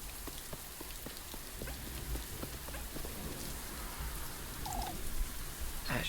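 Steady rain falls across a video game world, a dense even hiss of drops with occasional louder splats, plus a brief bird-like chirp near the end.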